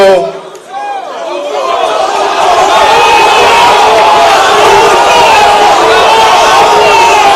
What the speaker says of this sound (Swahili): Pigieni Mheshimiwa Waziri Eugene Wamalwa makofi